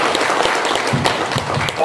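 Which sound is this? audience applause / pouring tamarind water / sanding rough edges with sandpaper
audience applause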